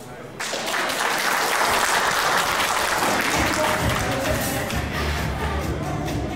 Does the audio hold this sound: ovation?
yes